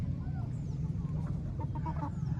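Hens cluck steadily on a rooster farm, a close, continuous flock murmur with a few clearer clucks rising toward the end over a low background hum.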